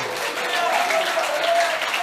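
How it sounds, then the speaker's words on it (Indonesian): Church congregation at an apostolic teaching session applauding, a short burst of fairly loud, continuous clapping with a faint tonal hum underneath. "Berikan tepuk tangan bagi dia"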